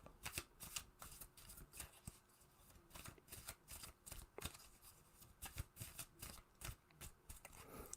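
A deck of playing cards is riffled and shuffled repeatedly, producing quick bursts of crisp flutter and snapping clicks in an irregular rhythm, close and quiet, with no talking.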